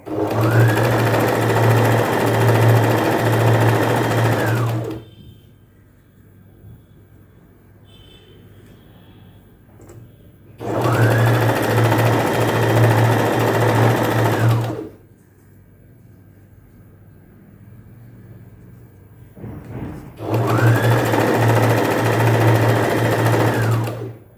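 A sewing machine runs in three loud, even bursts of about five seconds each, stitching along folded scrap cloth, with quiet pauses between the runs and no talk.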